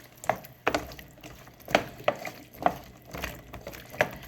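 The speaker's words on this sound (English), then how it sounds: "time for the red wine. Just regular table wine. We're going to let that deglaze." Regular red table wine deglazing a hot pan of braised beef bones, with close sizzling and bubbling broken by repeated sharp scrapes and taps of a utensil against the pan, steady and fairly loud with no speech.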